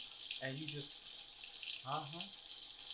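Water runs steadily from a sink tap in a continuous hiss, while a person talks over it in two brief phrases.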